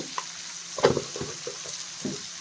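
Bitter gourd frying in a pan with turmeric, a soft steady sizzle with a few light stirring scrapes and clatters, close and fairly quiet.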